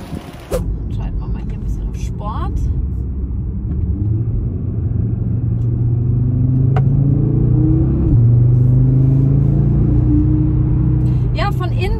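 An Audi RS3 engine rumbles steadily from inside the cabin as the car drives, with low droning tones that swell under acceleration around the middle, and a few brief voices in between.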